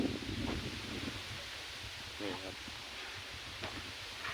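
Breezy wind moves through leaves at a farm and rice-field spot in rural Isan, Thailand, giving a steady rustling hiss with low microphone rumble, while brief spoken voices come and go.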